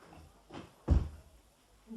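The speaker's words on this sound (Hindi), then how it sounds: "बड़ी देर बाद दरवाजा खुला तुमने।" A door being opened in a Hindi radio play, a single muffled thunk of the latch and swing, fairly quiet, with faint room noise before and after.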